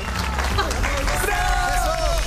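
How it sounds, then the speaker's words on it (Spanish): A live audience claps and cheers loudly for three young female singers walking onto a stage. The noisy crowd applause is continuous and close, with voices and babble under it. "¡Un aplauso para las chicas!"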